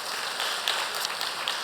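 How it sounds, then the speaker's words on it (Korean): Church congregation applauding at a Saturday early-morning family prayer service, a steady soft patter of many hands clapping together, moderately distant and without voices. "박수 좀 쳐줘요"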